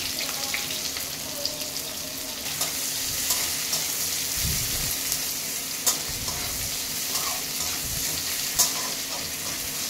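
Chopped onion hits hot oil already holding cumin seeds and a bay leaf, giving a loud, steady sizzle with intermittent stirring scrapes and small pops close by; no one speaks.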